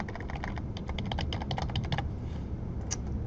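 Rapid clicking keystrokes on a computer keyboard as text is typed into CAD software, a close, quick, irregular patter that trails off near the end.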